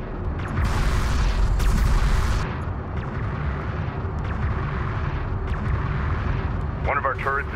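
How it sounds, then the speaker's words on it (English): Gunfire striking a turret in Homeworld: Deserts of Kharak, heavy booming impacts and explosions loudest early then settling into a rumbling battle bed, with radio-style voice chatter over it. "One of our turrets is taking fire."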